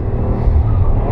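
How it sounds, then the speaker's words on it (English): A car engine during a heel-toe downshift from third to second gear while cornering, a brief close engine roar with a rev-matching blip. "So right now, 3rd, heel toe, down into 2nd gear."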